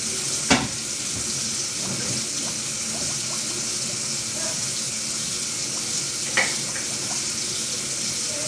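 Water dumped out of a cooking pot into a sink, a continuous loud splashing rush with a couple of brief clanks.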